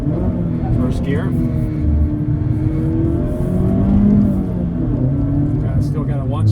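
A 2022 Mazda Miata MX-5 RF engine drones loud and steady in first gear, revs rising and falling, on a canyon road, with a voice briefly speaking over it.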